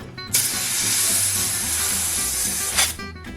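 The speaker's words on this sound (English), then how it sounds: "you just use your compressed air to pull the grip right off" A compressed air blowgun blasts a loud, continuous hiss for about two and a half seconds while forcing a grip off a Harley-Davidson chopper's handlebar, starting and stopping abruptly.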